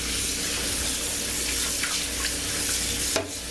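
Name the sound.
rinsing oxtails under running tap water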